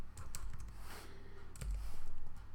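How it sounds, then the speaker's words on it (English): Fingers tap rapidly on a computer keyboard, a quiet burst of close clicking keystrokes with no talk. "Let's just type it out."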